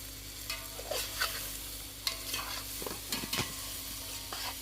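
Khichdi mixture sizzling in a pot over a three-stone wood-fired stove, a spoon scraping and stirring through it in irregular strokes, close up over a steady frying hiss.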